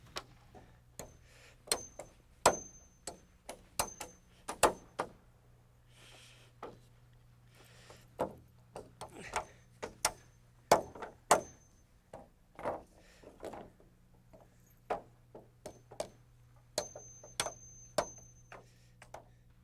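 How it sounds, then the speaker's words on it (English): Hammer blows driving 16-penny nails into wooden floor joists and a girder, many sharp taps at an irregular, quick rhythm, moderately near, alone over a low steady hum. "The code calls for 2 more 16-penny nails here, plus a toenail down into the girder."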